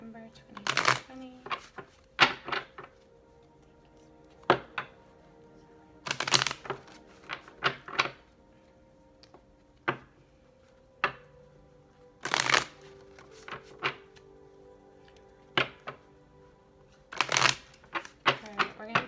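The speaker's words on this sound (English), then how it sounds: "we're going to do one more shuffle and then we'll get started with our cards" Tarot cards shuffled by hand in a series of crisp riffle bursts and soft slides, repeating in irregular rhythm close to the microphone, with no talking.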